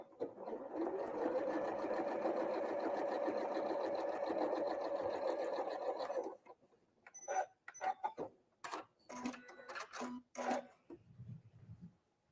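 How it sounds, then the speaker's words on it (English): A sewing machine runs steadily for about six seconds, stitching a quilt block with a fast even whir, then stops, followed by a few short clicks and handling noises. "So I'm going to just sew that one down again."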